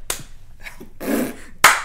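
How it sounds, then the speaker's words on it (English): A single sharp hand clap for syncing a podcast recording, short and close, with faint voices and rustle around it and another sharp slap-like hit near the end. "That was a weak clap."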